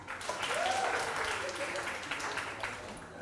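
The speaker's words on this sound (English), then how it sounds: "Give yourself a clap." Audience at a women's sports symposium clapping for themselves after a relaxation exercise, a soft, even wash of applause that fades slightly toward the end, with faint voices underneath.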